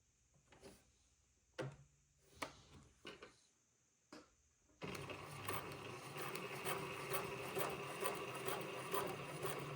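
A sewing machine runs a basting line 1/4 inch from a previous one on a quilt pattern piece, starting with a few light clicks and taps, then settling into a steady, continuous mechanical whir for the rest of the moment.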